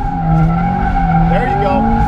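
A turbocharged Subaru BRZ drifts with a loud, strained engine howl and tires squealing continuously, the pitch wavering and sliding up and down as the car slides.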